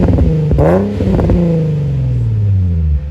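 A car with an aftermarket exhaust revs up in a rising, raspy burst, with a crackling blip midway, then settles into a droning, falling tone as the revs drop. Close and loud, with no talk.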